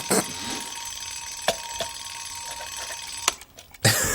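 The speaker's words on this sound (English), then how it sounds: "This is the first time I've seen a vampire set a fucking old school alarm clock bell" A vampire's old-school alarm clock bell in a horror TV episode rings in a continuous metallic jangle, with sharp clicks punctuating it and a loud clatter near the end.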